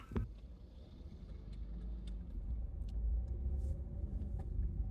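A car rumbles past on a road, a low steady engine drone that swells slightly as it goes by, with no voices.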